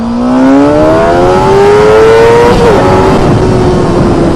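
A motorcycle with an inline induction turbo system and a 2JZ engine climbs in pitch as it accelerates, a loud, close whining drone that dips briefly near the end, then holds steady, with no talk.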